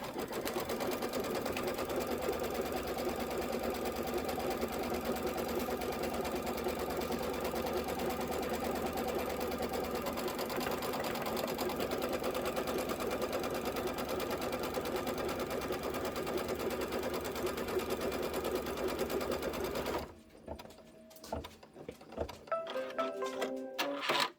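An embroidery sewing machine runs a tack-down stitch for quilt batting, a steady rapid mechanical chatter close by that continues for about twenty seconds before stopping, followed by a few small clicks and handling sounds.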